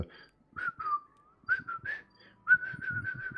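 A person whistles a wavering, unmusical tune in short bursts, a voice imitating a whistling noise, close and fairly quiet.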